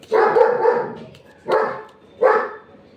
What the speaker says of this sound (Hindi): अब इतनी तेज़ तेज़ ये भौंकने लग पड़ा है